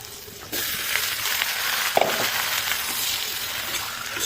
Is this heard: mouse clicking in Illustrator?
no